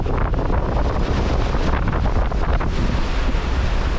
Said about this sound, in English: What I didn't expect was the wind suddenly picking up to 30 knots.